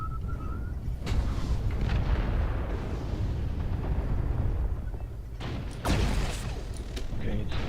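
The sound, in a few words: artillery strike explosions in video game MechWarrior Online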